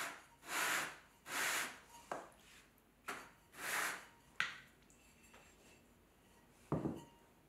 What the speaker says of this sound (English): I then sand the base, the rim, and the underside of the lid, just to soften the coarse clay somewhat.